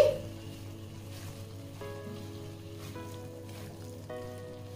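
Beans and potato masala curry with chopped coriander sizzles softly in a pan as it is stirred, a steady low frying hiss with a few faint utensil taps.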